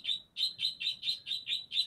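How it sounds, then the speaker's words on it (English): A bird chirps in a quick, even series of about eight sharp, high tweets, clear and fairly close against a quiet background. "just like the bird right now."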